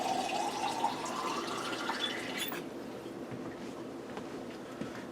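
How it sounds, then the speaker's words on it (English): Water runs from a tap into a pasta jar, a steady rushing pour whose pitch rises briefly as the jar fills, then continues as a softer, even splashing. "I'm filling my pasta jar up with some water."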